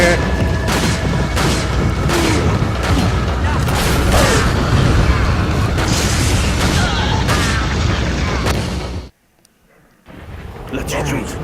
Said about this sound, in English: He has a rocket launcher.